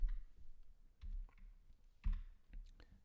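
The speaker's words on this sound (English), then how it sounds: "So, for example, I can type series of sine of x" Computer keyboard typing during a Mathematica lecture, a few soft, sparse keystroke clicks at close range under a quiet room hum.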